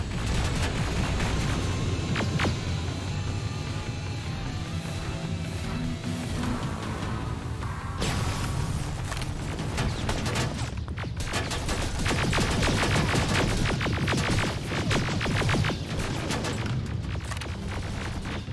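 Sustained heavy gunfire in the Terminator Resistance video game, with dense rapid rifle bursts, booms and explosions in a continuous loud barrage throughout.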